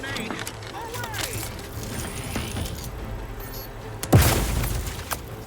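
A grenade blows up in the video game The Outer Worlds 2, a sudden loud boom with a broad rumbling tail that fades over about a second, following stretches of game sounds and voices.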